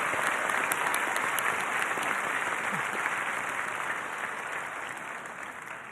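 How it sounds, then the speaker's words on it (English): A crowd at a high school commencement ceremony applauds steadily and loudly, a full wash of clapping that holds throughout and eases slightly toward the end. "Please join me in a round of applause."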